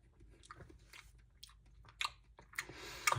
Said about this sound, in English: I'm chewing without my mouth being closed.